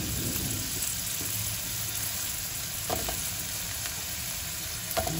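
Carrots fry in hot oil in a pan with a steady, soft sizzle and crackle, broken by a few light stirring knocks, no voices.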